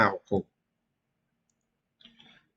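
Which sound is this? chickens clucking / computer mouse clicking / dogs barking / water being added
computer mouse clicking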